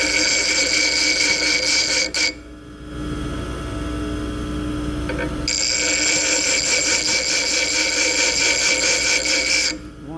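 A bench grinding wheel grinds a lathe threading tool, a steady loud whine with bright harsh overtones that stops briefly and starts again, with no talking.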